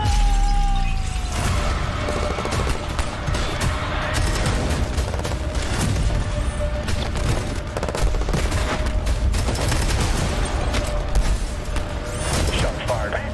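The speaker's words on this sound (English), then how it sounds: "Shots fired." Heavy gunfire fills a RoboCop video game scene: dense, loud bursts of rapid shots with metallic impacts over a low rumble, continuing without pause, with speech faintly mixed in.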